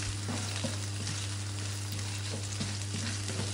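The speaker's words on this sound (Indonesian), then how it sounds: "Kalian tumis bumbu apinya kecil aja" Spices with chili, bay leaf, lemongrass and ginger sauté in a pan over low heat, giving a steady close sizzle with occasional soft stirring taps under a constant low hum.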